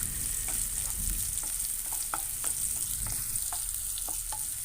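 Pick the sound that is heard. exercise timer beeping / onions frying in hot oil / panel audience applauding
onions frying in hot oil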